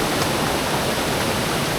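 The first tier of Krok E-Dok waterfall in Thailand pours down in a loud, dense, unbroken roar of rushing water, close by and steady throughout.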